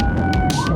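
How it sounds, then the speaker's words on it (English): Police car siren wailing during a high-speed chase, a steady electronic tone sliding in pitch, loud and close with road and engine rumble beneath it and no voices. "Sirens blared and lights flashed as more police units joined the pursuit."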